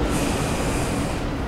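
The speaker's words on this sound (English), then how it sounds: "Okay, we're back on this train." Steady, dense train rumble from a rail ride in the video game Cyberpunk 2077, a continuous loud roll of wheels and carriage with a slight hiss above, alone without talk.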